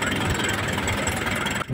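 An Isuzu 4BC2 diesel jeep engine runs at a steady, rough, loud idle close by, a dense continuous rumble with a brief dip near the end and no talking.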